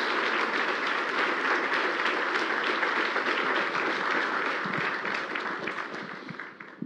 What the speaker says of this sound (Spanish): Give a great round of applause to the Lord.